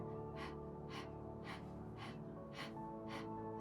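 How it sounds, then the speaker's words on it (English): Gentle, unforced breaths during a meditation breathing demonstration, about six soft airy inhales or exhales in an even rhythm, close and quiet over a low steady hum. "It's a really gentle breath here."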